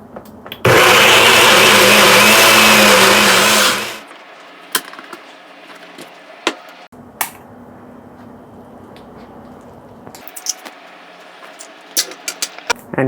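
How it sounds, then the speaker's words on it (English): A NutriBullet blender purees plantain in one loud, steady whir of about three seconds, then winds down into quiet clicks and light kitchen handling noises. "you're just gonna place the plantain on the NutriBullet, and we're just gonna let it puree just for like 1 minute"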